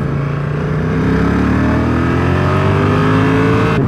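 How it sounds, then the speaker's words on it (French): A Honda NT1100 motorcycle from 2022 revs in sport mode, its engine note climbing steadily in pitch as the revs rise, loud and close throughout. "en mode sport, elle va monter tout de suite beaucoup plus dans les tours"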